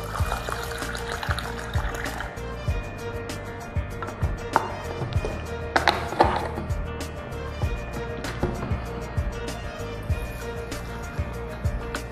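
Rice is washed in Strong Kangen water: water pours and trickles while grains are stirred and sloshed, with intermittent clinks and splashes over a steady liquid wash, fairly close.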